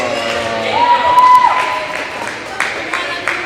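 Crowd cheers and claps for the Bobcats server in a girls' high school volleyball match, a busy mix of applause and shouts with a couple of sharper bursts near the end.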